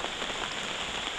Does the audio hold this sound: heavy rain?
yes